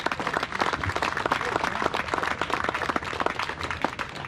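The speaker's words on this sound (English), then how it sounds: "Round of applause for their hard work and dedication." Crowd applause at a Land O' Lakes baseball 100th-season pregame ceremony at Merton, steady clapping from an outdoor crowd filling the whole stretch at moderate volume.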